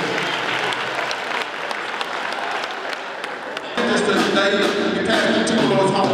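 Loud, continuous clapping from a concert audience for a gospel group at a 20th anniversary concert, swelling louder and denser partway through with crowd noise mixed in.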